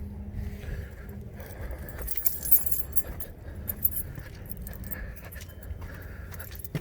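A ring of keys jingles and clinks in short bursts while someone works at opening a 2005 Chevy Express 3500 van, faint and close against a low background hum.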